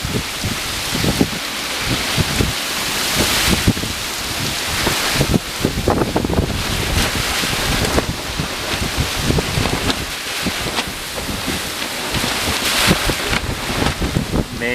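Strong gusting wind from Hurricane Ian roars and buffets the microphone without letup, with rushing water from the flooding mixed into the broad, steady noise.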